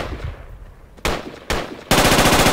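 Suppressive machine gun fire in a shooter video game, loud and close: a couple of short bursts followed by a sustained, continuous rapid-fire stream.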